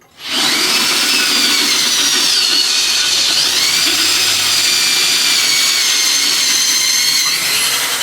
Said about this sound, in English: So that cut all the way through, and look at that. The whole head came right off on the drill bit.